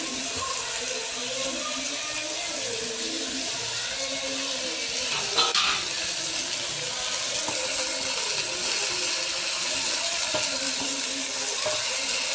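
Broad beans fry in a new clay pot and are stirred with a wooden spoon, giving a steady, loud hissing sizzle that fills the whole stretch, with faint scraping and a brief rattle partway through.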